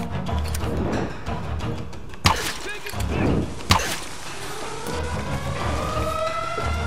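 A wailing siren in the video game Tomb Raider rises and falls over engine rumble and game noise, with two sharp bangs cutting through midway.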